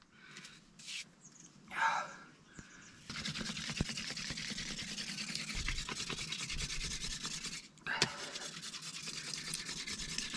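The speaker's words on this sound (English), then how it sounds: "let's get back on the bow drill" A wooden bow drill is worked hard to start a fire in the Australian outback, a fast continuous scraping and rubbing of wood on wood that runs for several seconds, pausing briefly near the end.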